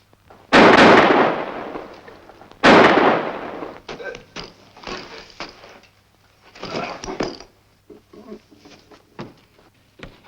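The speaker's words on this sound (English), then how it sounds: "Ballard just shot Johnson." Gunshots in a Western action film: two loud, sharp reports a couple of seconds apart, each with a long echoing tail, followed by fainter pops, scuffles and movement.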